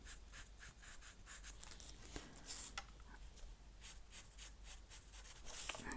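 Alcohol markers stroke across paper on an art journal page, a soft scratchy rubbing in short repeated passes, close and steady, with no talking.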